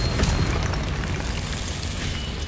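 A Confringo blasting spell goes off in Hogwarts Legacy, a loud, dense booming burst with a sustained low rumble that stays strong to the end.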